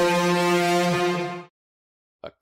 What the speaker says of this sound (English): The foghorn blew, and the monster answered.